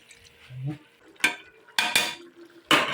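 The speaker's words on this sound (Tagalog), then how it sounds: "Lagyan natin ng kaunting tubig." Water is poured into a pan of duck adobo, with short bursts of splashing and sizzling, then scraping and clatter of a utensil against the cookware, close and moderately loud.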